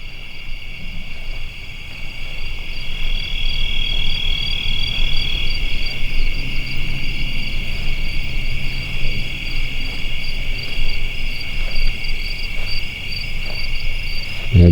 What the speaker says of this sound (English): I definitely hear a lot of bugs around here.